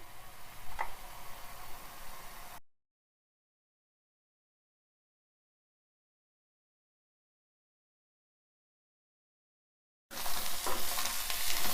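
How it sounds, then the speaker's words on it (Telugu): Tamarind leaves and onions are stirred and fried in a pan, a soft sizzle with scraping of the spoon, heard in two short stretches separated by a long silent gap, with no talking. "ఇట్లా ఉల్లిపాయలు చింత చిగురు అంతా మంచిగా వేగాలి"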